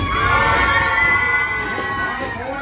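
Passengers in one car of a heritage excursion train scream together in a screaming contest, a loud, sustained burst of many overlapping voices and shrieks.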